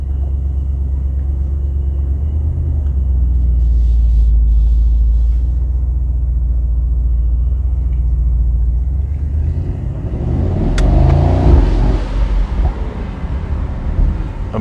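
A 2022 Mercedes SL 63 AMG pulls away at night, a deep engine rumble idling and building, then surging louder into a rough, broadband roar as it accelerates off.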